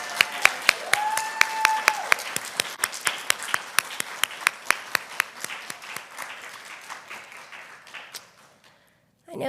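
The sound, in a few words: applause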